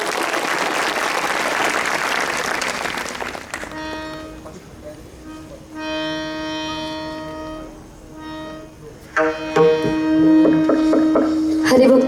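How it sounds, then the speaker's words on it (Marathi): Loud crowd applause at a student-teacher kirtan festival lasts about three seconds, then stops abruptly and gives way to sustained musical tones that swell near the end. "एकदा सगळ्यांसाठी जोरदार टाळ्या वाजवा."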